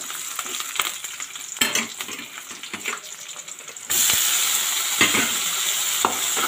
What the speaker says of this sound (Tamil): தக்காளியும் சேர்த்து நல்லா வதங்கிட்டோம்